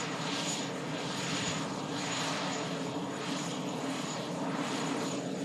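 A propeller aircraft arriving at Manchester Airport drones steadily at moderate distance, its engine hum carrying a faint pulsing beat throughout, with no talking.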